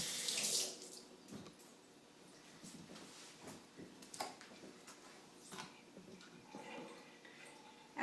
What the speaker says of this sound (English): I'm just going to rinse it off here a little bit.